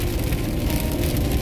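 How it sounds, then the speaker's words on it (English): Heavy morning rain after a thunderstorm pours down in a steady, dense wash of noise, continuous and loud with no gaps, close by and alone. "It is raining pretty heavily."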